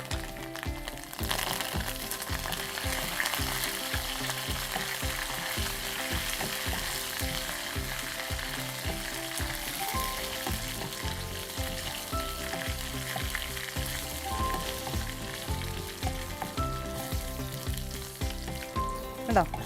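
Curry leaves, shallots and dried red chillies crackling in hot oil, a steady dense sizzle with frequent sharp pops, close and fairly quiet, with no talking.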